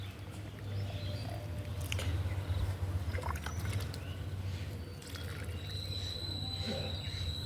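Water poured onto potted plants, a trickling, splashing flow close by over a steady low hum, continuing for several seconds, with faint distant sounds in the background.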